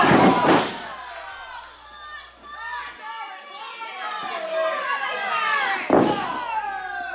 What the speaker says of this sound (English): Crowd now breaking into a Farley chant.